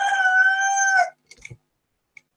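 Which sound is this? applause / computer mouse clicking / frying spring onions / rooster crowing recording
rooster crowing recording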